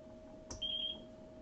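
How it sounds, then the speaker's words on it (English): A quadcopter radio transmitter in bind mode gives a single short, high electronic beep. It is faint and steady, over a low background hum in a quiet room. "So I have to get the transmitter into bind mode first, which you hear beeping."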